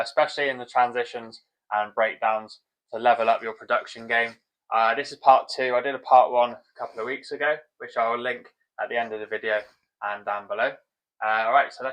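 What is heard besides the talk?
No everyday noises stand out.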